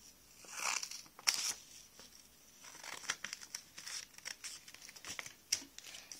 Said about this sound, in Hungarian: A papírba itt a szélét bevágjunk végig